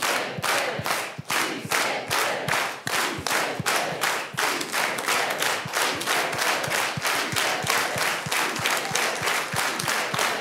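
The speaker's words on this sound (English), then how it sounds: "let's all do it together with an organized hand clap" A panel audience claps in steady unison, sharp rhythmic hand claps repeating throughout, loud and close with a roar of voices underneath.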